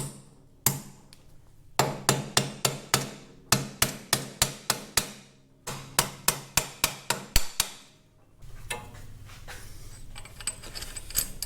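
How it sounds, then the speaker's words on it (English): A hammer taps cup plugs into the ends of a Caterpillar D2 starter pinion shaft in three rapid bursts of sharp metallic strikes, close and loud, followed by quieter clinking. "I'll tap those cup plugs in on each end of the shaft now"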